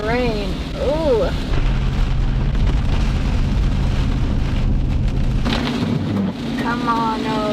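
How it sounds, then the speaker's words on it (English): Heavy rain pours down in a steady, dense roar, with a voice speaking briefly at the start and again near the end. "Oh, there's a lot of rain, y'all. A lot of rain."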